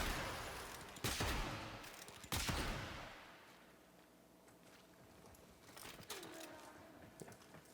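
Ferrox weapon firing in Warframe, two sharp, heavy shots a little over a second apart, then quieter mechanical whirring and a few fainter impacts.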